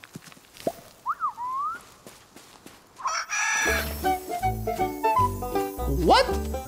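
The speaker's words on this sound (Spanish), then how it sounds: "¿Hay un pájaro ahí arriba?" In the video game Luma Island, a bird's call sounds as a chirp, followed by a loud rooster-like crowing and clucking against game music.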